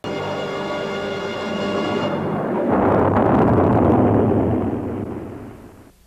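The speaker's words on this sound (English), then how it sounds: "The missile hit the Mandarin's palace just as I planned." A cartoon missile strikes the Mandarin's palace, starting as a steady tonal rumble that gives way to a loud, broad explosive roar, swelling and sustained for several seconds before fading out, with no voices.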